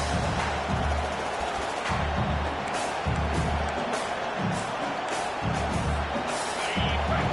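A Madden video game stadium crowd roars and cheers continuously, a dense, steady wall of noise that swells slightly at moments and never drops away.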